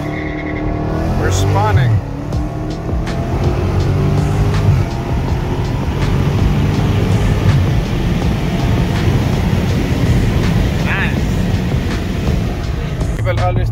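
A Dodge Challenger's engine accelerates from a 20 mph roll with the windows down, a loud, steady roar building under road and tire noise while someone talks briefly over it.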